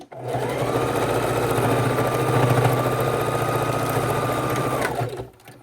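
A sewing machine runs steadily with the needle down, stitching up the open side of a bra band extender. Its even mechanical whir holds for about five seconds, close and alone, with no talking.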